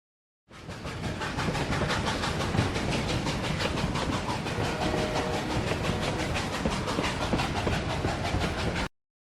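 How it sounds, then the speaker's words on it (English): The anomalous train IS-138 from the video game Abiotic Factor runs past with a loud, continuous rhythmic clickety-clack and hiss, starting and stopping abruptly with no talk. "IS-138, is a designation for an anomalous train constantly running in perpetual motion in Antiverse 11"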